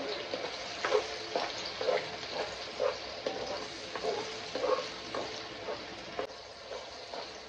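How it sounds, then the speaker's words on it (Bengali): Ground onion paste fries in oil for a pomfret coconut-milk curry, a low close sizzle punctuated by regular scraping stirs about once a second, no talk. "একটা মিডিয়াম সাইজের পেঁয়াজকে গ্রাইন্ড করে নিয়েছি, এটাকে আগে ভালো করে ফ্রাই করতে হবে।"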